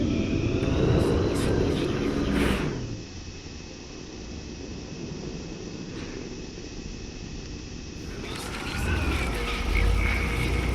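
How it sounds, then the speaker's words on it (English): A small high-flying drone, the Model B400 EVO, buzzes through a Life is Strange game scene, its steady whirring swelling loud, dropping to a softer hum mid-way, then rising again near the end. "I have to focus on making sure this drone doesn't crash"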